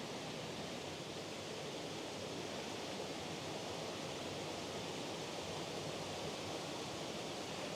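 Waterfall at Glen Mooar on the Isle of Man, a faint, steady broadband rush of falling water heard from a distance, constant throughout with no voices.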